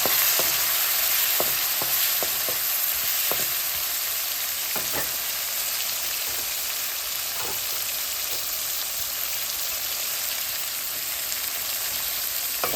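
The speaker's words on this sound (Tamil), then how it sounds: "பச்சை மிளகாய், சித்தல் மிளகாய், வெங்காயம் எல்லாம் போட்டு வதக்க வேணும்" Green chilies, dried red chilies and onions sauté in a pan with fenugreek, mustard and cumin, giving a steady loud sizzle broken by scattered clicks of a spoon stirring, with no voices.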